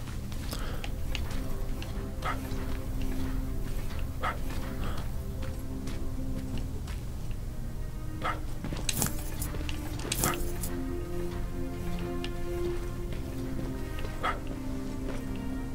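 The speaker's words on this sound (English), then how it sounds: "A dog?" A dog in the video game Terminator: Resistance, with scattered barks and whimpers over a steady low game ambience, the yelps coming at uneven intervals, some sharp and near, others softer.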